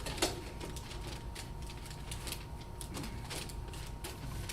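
Wing nut being turned down on a large bolt during a woodworking shop meeting, giving a steady faint ratcheting, creaking mechanical clicking that runs the whole time at low level.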